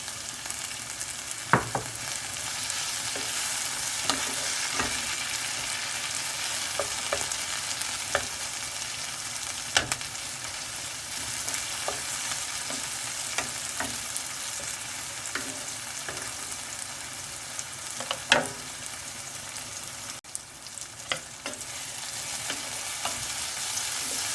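Eggplant stir-frying in a little oil alongside onion for baigan ka bharta, a continuous close sizzle broken by frequent scraping ticks of a spoon moving the pieces around the pan.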